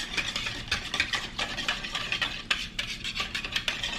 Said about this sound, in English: you're gonna whisk that together really well as well